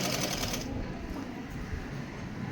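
A sewing machine runs through fabric while a churidar is stitched, a steady close mechanical rattle that is strongest in the first moment and then continues more softly throughout.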